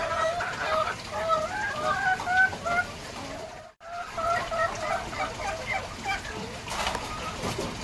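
Laying hens clucking in a covered pen at feeding time, a dense overlapping chorus of close clucks that drops out briefly and then resumes.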